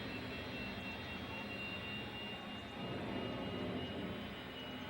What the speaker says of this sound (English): get ready for the most powerful jet dragster ever built